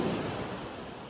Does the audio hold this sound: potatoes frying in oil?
no